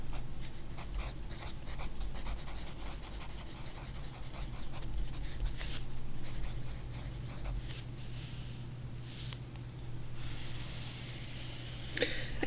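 A fountain pen scratches across cheap paper in quick, steady strokes. The close, dry scritching runs on and off over a constant low hum.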